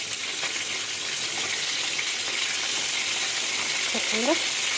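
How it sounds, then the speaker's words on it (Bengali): Whole pointed gourds (potol) fry in oil with a dense, even hiss that stays constant throughout. Faint bubbling pops and a brief tonal squeak come near the end. "খুব সুন্দরভাবে লাল লাল করে ভাজা হয়ে গেছে"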